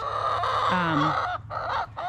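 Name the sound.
chickens clucking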